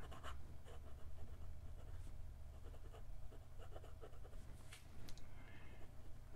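A fine steel number 6 nib on a 3D-printed fountain pen scratches across Clairefontaine 90 gsm paper in short, faint strokes with small pauses, close and quiet against a low background hum.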